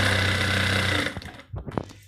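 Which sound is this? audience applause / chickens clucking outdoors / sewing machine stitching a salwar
sewing machine stitching a salwar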